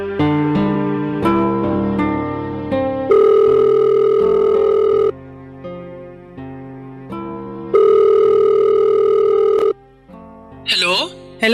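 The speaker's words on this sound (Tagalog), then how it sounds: "nagulat na lamang ako nang tumawag siya sa akin, Papa Dudut." A telephone rings for an incoming call in a Filipino radio drama, a loud, close electronic ringtone of sustained melodic tones repeating in long phrases, ending with a brief burst of higher sound.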